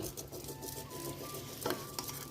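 Green chillies are stirred in a pan for a curd chutney, giving soft, faint scraping and a low gentle sizzle, with a steady quiet hum underneath and a brief clatter near the end.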